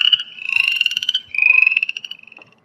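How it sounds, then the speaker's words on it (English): An upland chorus frog calls alone and close, giving two trilled, rasping pulse trains like a thumb run along the teeth of a comb, the second fading out at the end. "This is our upland chorus frog."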